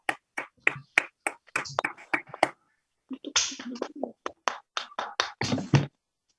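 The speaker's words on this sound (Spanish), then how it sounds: "También le damos aplauso." Children in a preschool class clap in short bursts, a run of quick separate claps followed by a pause and then another cluster of sharper, uneven claps from a small group, close and distinct in a quiet room.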